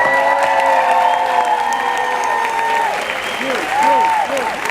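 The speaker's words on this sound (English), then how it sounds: "Let's hear a big cheer to this moment and a huge congratulations." A graduation audience applauds steadily and loudly throughout, a dense wash of clapping with some cheering mixed in, heard alone without talk.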